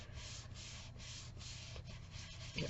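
Steady rubbing of a paper craft piece by hand to smooth and flatten it, a continuous soft dry scuffing in close strokes with faint rhythmic pulses, quiet and alone.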